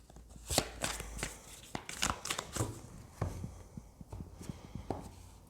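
Tarot cards are shuffled and handled during a card reading, with a series of close, crisp riffling and slapping sounds in irregular bursts and no talking.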